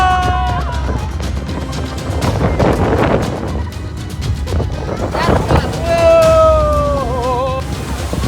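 Strong storm wind buffeting the microphone in an open farm field, loud roaring gusts over continuous talking, with a whistling tone rising and falling near the start and again toward the end.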